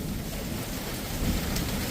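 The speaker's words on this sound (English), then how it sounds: "storm just got here and we are getting hail right off the rip" A thunderstorm with heavy rain and hail hits at a house, a dense constant roar of falling water and hailstones, loud and close, with no voices over it.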